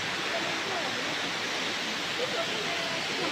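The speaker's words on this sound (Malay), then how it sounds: "Tengok air terjun ni." A forest waterfall at Senah Rayang in rocky jungle terrain, heard as a steady, dense roar of falling water that fills the scene evenly from start to finish.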